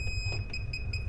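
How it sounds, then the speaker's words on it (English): A circuit breaker finder gives a run of short, high electronic beeps at a fast, steady rhythm, fairly close, over a low hum. "Listen for the beeps"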